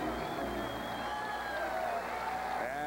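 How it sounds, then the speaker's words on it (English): A basketball arena crowd at the Knicks at Hawks opening night game in Atlanta gives Dominique Wilkins a standing ovation for his 20,000th point, a steady roar of applause and cheering under a commentator's voice. "And he is receiving a standing ovation."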